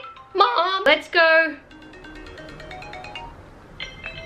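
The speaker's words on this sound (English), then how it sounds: "you can't get too upset with that ringtone" A cheerful, melodic phone ringtone plays loudly in short tonal bursts, then fades to quieter notes while a person talks nearby.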